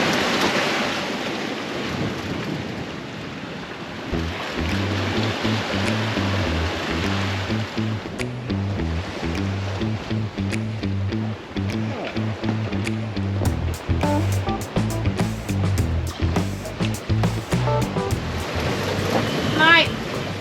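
Wind buffets the microphone while waves wash against a sailboat's hull on the Irish Sea, a constant rushing roar with a low rhythmic pulse and scattered crackles.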